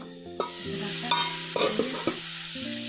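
Small fish and cauliflower frying in a pan as spices go in, with a steady sizzle, several scraping stirs and clinks of the utensil, close and moderately loud with no talking.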